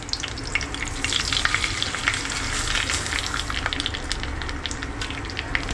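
Vermicelli roasting in a pan gives a steady, close sizzle with light stirring scrapes running throughout, and no one speaks.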